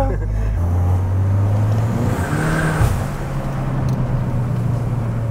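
A Peugeot 208 GTI with a pop-and-bang exhaust, its engine droning loudly, then a sharp pop or two mid-clip over a continuing hum, heard up close with people talking.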